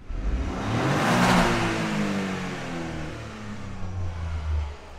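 Toyota GR Yaris in sport mode with traction control off, its engine revving up hard then holding a steady, loud drone with a throaty buzz, close and continuous with no talking.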